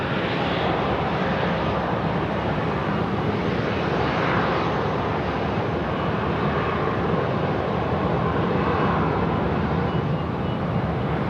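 A KC-135 tanker takes off at Sydney Airport, its jet engines producing a loud, steady, broadband roar that stays constant and close throughout, with no voices.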